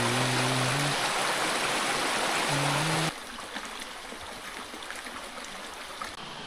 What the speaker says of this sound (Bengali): আর নিচেই কিন্তু ঝিরিটা, এই পাশেও দেখেন